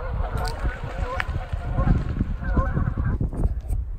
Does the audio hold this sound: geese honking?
yes